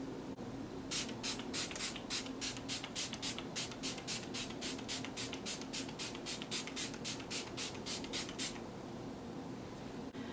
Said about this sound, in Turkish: Tekrar makyaj spreyimi alıyorum.